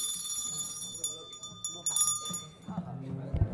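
A session bell in a legislative chamber rings in a few short metallic bursts that stop and start, heard amid room noise and voices in the hall.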